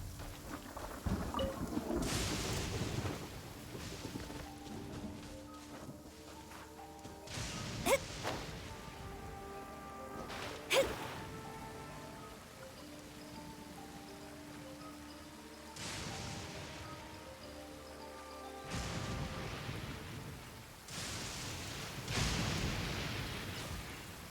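Heavy rain in the Genshin Impact game world, a steady broadband wash with repeated distant thunder rumbles and a couple of sharp cracks, music tones running underneath.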